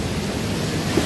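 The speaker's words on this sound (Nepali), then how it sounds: "यहाँ सानोतिनो झरना नै बनिरहेछ।" Flood water pouring over a small waterfall into a park pond during high water, a dense close rushing roar filling the brief moment.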